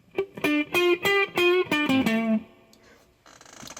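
An electric guitar plays through a Hughes & Kettner Black Spirit 200 floor amp with reverb. A run of distorted notes is picked in quick rhythm, then a reverb tail lingers and a final chord rings out.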